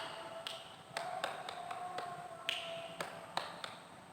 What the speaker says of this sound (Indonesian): 3 kali tepuk tangannya, sekali gini.